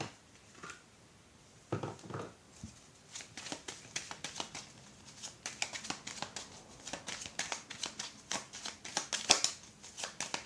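A deck of cards is shuffled by hand close up, a couple of brief riffles early on and then dense, rapid flutters and slaps that grow louder toward the end, with no speech.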